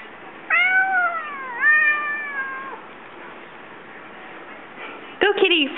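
A cat gives two drawn-out, wavering meows close by, followed by quieter noise and a sharper, higher meow at the end.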